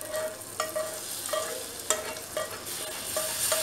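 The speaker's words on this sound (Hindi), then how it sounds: "फ्रेंड्स अभी हमारा तड़का हम सब्जी में डाल देंगे।" Hot spice tempering (tadka) with red chilli powder poured into Amritsari chole, a close, steady frying sizzle broken by repeated stirring and spoon clinks, with no talk.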